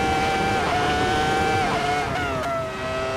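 A racing machine's engine holds a high, steady rev near the top of its range, its harmonic whine sliding slightly in pitch with brief dips, loud and continuous without talk.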